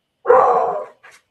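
A dog lets out one loud, close bark, followed a moment later by a short, softer yip.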